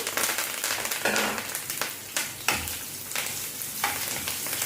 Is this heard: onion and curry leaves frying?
yes